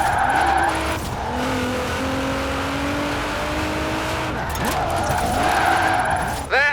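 Car drifting in Forza Horizon 4, its engine droning steadily with tires squealing and skidding through long slides, loud and close, with a brief voice over the game sound.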